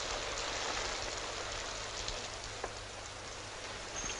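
Steady rain hisses evenly throughout, a dense wash of drops with a faint tap here and there and no voices.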